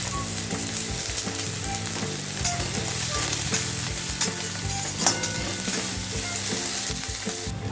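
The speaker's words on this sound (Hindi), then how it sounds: "अभी हम ये ऑनियन को भून लेते हैं अच्छी तरह लाल करके।" Onions frying in oil in a kadai, a steady dense sizzle with occasional stirring scrapes, close and loud throughout with no talking.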